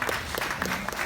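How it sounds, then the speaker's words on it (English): An audience claps for in-house coaches at a Ghanaian sports launch event, a short burst of scattered, fairly close applause. "A round of applause, please."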